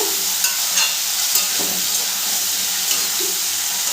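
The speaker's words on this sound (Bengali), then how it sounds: "ইঁচড়গুলোকে আমি খুব ভালো করে ভেজে নেব" Young jackfruit pieces coated with turmeric fry in a pan with a continuous bright sizzle, broken by occasional scraping stirs of a spatula.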